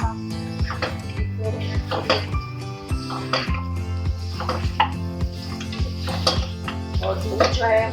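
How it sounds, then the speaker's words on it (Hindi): Bay leaves and coriander-cumin powder fry in a pot for Kashmiri mutton yakhni, a steady sizzle under repeated clinks and scrapes of a spoon stirring against metal, close and fairly loud throughout. "फ्राई करेंगे थोड़ा सा 1-2 मिनट के लिए।"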